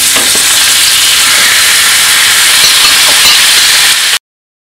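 Chicken marinated with turmeric and salt sizzles loudly and steadily in hot ghee, a dense close-up frying hiss with faint stirring clicks that cuts off abruptly.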